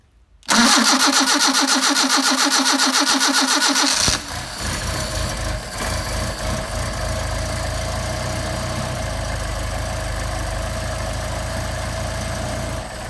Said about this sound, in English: Nice idle for cold, so then we're going to rev it up to get it warmed up quickly.